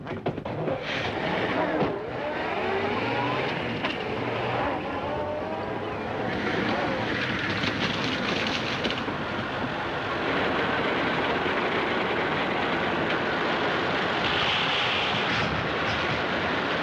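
A 1936 Earthworm tractor drives along a muddy country road, its engine giving a steady, loud mechanical rumble throughout, with voices talking over it in the first few seconds.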